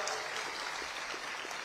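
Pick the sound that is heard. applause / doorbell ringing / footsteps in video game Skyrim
applause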